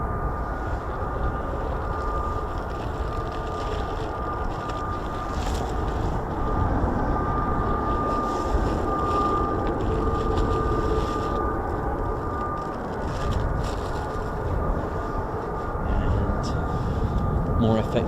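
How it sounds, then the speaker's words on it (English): F-35B stealth fighter jets of 809 Naval Air Squadron and 617 and 207 Squadrons taxi out and take off, a loud continuous engine roar with a steady whine that runs throughout, with people talking over it. "More F-35s coming out, here we go."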